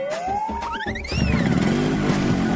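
A cartoon motorbike, new, rides up and stops outside a tea stall: a rising whine and revving engine note give way to a throaty, rumbling idle, close and loud, with no talk.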